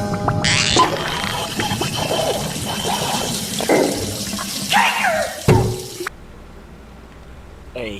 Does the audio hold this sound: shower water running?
yes